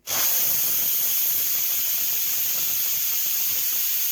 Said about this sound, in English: I'm now releasing the steam